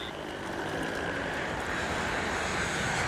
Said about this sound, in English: Eastern Airlines Flight 401 roars past.